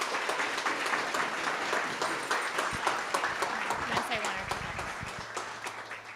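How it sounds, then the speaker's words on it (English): Audience applause at a canine support team graduation commencement, many hands clapping steadily with a few distinct sharp claps, fading toward the end as voices start to talk. "So everyone, please give them a round of applause."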